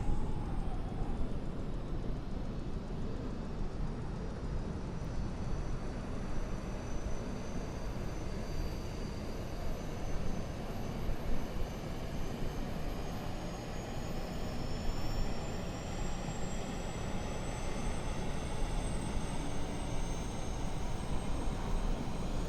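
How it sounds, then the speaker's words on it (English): An airliner's APU starts up in the Microsoft Flight Simulator video game: a steady turbine rush with thin whining tones that slowly rise in pitch, holding at an even level throughout. "I'm going to start the APU now, and we'll listen to that little wonderful thing starting up"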